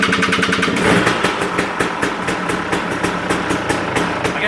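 A dirt bike engine runs steadily after a carburetor cleaning, a loud, close, continuous idle with rapid regular firing pulses and a slight rise in revs near the start, with no talk over it.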